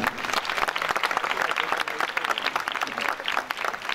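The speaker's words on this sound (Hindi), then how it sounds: "सबके लिए भरपूर तालियां जी" An audience gives the cast of a Passion of Christ play a sustained round of applause, thick and even clapping filling the whole stretch at moderate loudness.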